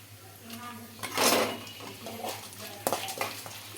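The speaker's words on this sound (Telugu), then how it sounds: "ఇలా కొద్దిగా వేగిన తర్వాత అయితే ఎండుమిర్చి అయితే వేసుకుంటున్నానండి" Dried red chillies and cumin frying in hot oil for a tempering, heard as soft sizzling with a louder stirring scrape near the start and another sharp scrape toward the end, close up and with no talk.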